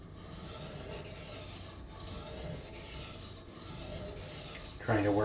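A knife blade rubbing back and forth on a coarse 700 grit sharpening stone, with steady gritty rasping strokes and pressure on a bump near the tip; a brief voice enters at the end.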